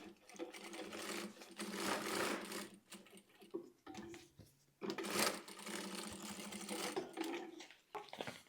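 Sewing machine stitching a seam on a bag of synthetic quilted matelassê fabric, running in bursts of fast, close whirring with short pauses and clicks between runs.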